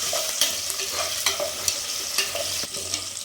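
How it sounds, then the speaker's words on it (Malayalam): Diced potatoes stir-fried in a hot pan for a vegetable pulao sizzle steadily while a spatula scrapes and clicks against the pan at an uneven rhythm, close and fairly loud, with no voices. "ഇതൊന്ന് ചൂടാകുമ്പോൾ നമ്മൾ ഇതിലേക്ക് ഉരുളക്കിഴങ്ങ് ഇട്ട് നന്നായിട്ട് വഴറ്റുന്നു."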